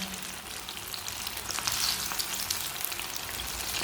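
Kababs frying in a pan over medium heat, giving a steady, even sizzle and crackle of hot oil with faint scrapes, close and continuous, with no voices.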